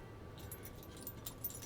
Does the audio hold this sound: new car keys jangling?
yes